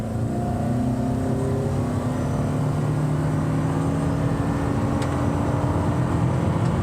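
Honda Accord or Toyota Camry in sport mode launching hard from a brake-torqued standstill, its engine a steady loud drone that climbs gradually in pitch as it keeps pulling.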